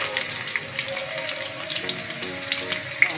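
Onion slices frying in hot oil, with a soft, steady sizzle and occasional small pops and crackles running throughout at a moderate level.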